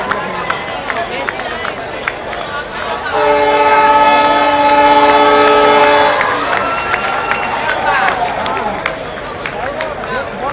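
A train on a newly opened rail line in Balangir, Odisha gives a loud, sustained horn blast of about three seconds over the rumble of the moving train, with voices heard throughout.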